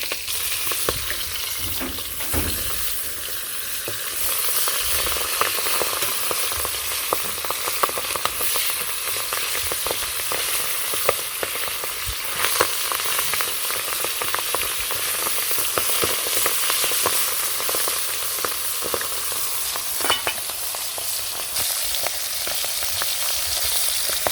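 Food sizzles and crackles loudly in a pan of hot oil during simple village cooking in Bangladesh, a dense continuous hiss with frequent popping spatters and occasional stirring, close and constant throughout.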